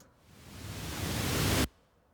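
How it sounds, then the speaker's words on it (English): A broadband hiss swells steadily over about a second and a half, then cuts off abruptly, leaving near silence. "I believe this is just a white noise fill."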